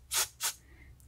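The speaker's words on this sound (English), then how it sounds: "Maybe I'll try and loosen up whatever's in there with a little bit of carb spray." Carburetor cleaner is sprayed into the carburetor of a lawn mower that won't start after winter storage, giving two short, close, sharp hissing bursts in quick succession.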